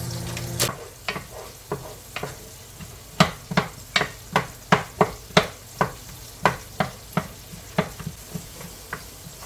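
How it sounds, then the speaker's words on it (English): A cup of onions sizzling in vegetable oil for lumberjack hash, heard under a regular run of sharp utensil taps and scrapes against the pan, close and with no talk. "While the onions are cooking"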